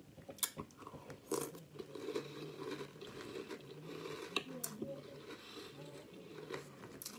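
Crunchy mint chocolate drumstick cereal made of corn and wheat is chewed up close, with quiet, irregular crunching bites and soft chewing running throughout.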